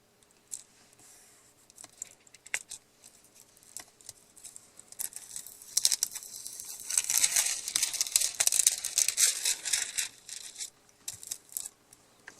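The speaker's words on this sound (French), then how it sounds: "je frotte bien de manière à faire adhérer ma découpe correctement partout." A paper die-cut is rubbed onto a double-sided adhesive sheet, starting with sparse close taps and crinkles, then swelling into a dense scratchy rubbing for several seconds before fading back to scattered clicks, no voices.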